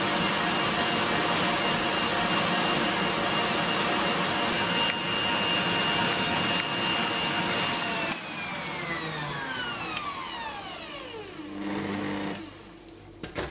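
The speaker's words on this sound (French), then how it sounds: "J'ai mis dans le cucul 233 g de crème fraîche entier que je monte en chantilly" Electric mixer whipping whole crème fraîche into chantilly, a loud continuous whine and whir close by that runs steadily, then spins down with a falling pitch and ends in a few brief knocks.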